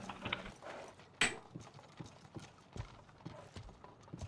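Horse hooves clip-clop in a loose rhythm in the video game Life is Feudal, fairly quiet, with a few sharper knocks and clatters from a cart mixed in.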